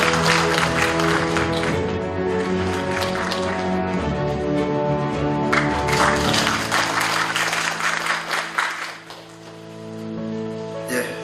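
Audience at a Magazine Day anniversary ceremony clapping to welcome a speaker to the podium, a full burst of applause with a rising second wave that fades away toward the end.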